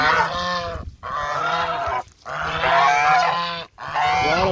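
Geese kept with chickens on a farm honk loudly and close by in long, harsh, nasal calls, three extended honking bouts separated by brief pauses.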